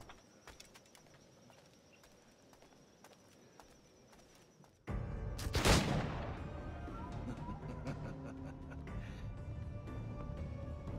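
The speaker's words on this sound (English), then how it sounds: "Even more gunfire." A sudden loud burst of gunfire in the video game Assassin's Creed IV: Black Flag breaks a quiet ambience, followed by sustained rumbling battle noise and scattered shots.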